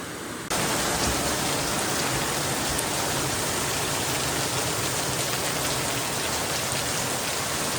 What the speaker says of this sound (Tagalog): Umulan talaga.